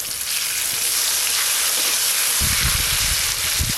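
Black cumin and chopped tomato sizzle in hot oil, the same oil used for frying parshe fish, making a steady, close hiss with a few louder crackles toward the end and no talking.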